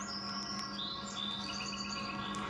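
Small birds chirp and tweet in a series of thin, high calls over a soft, steady bed of calm music, fairly quiet and with no talking.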